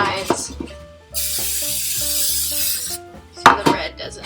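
Cooking spray sprayed into the bottom and sides of a baking pan for bread rolls, heard as one long hissing spray lasting a couple of seconds, with someone talking over it and some kitchen clatter.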